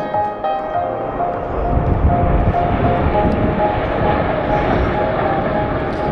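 Patrouille de France jets roaring overhead at an airshow while flying simultaneous rolls, a loud sustained engine rumble and whine that holds steady throughout, with faint announcer talk underneath.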